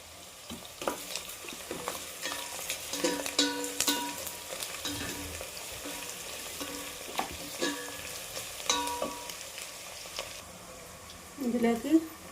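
Chicken biryani ingredients fry and sizzle in a pan, with steady crackling and occasional stirring scrapes running throughout, and a voice speaking over the cooking.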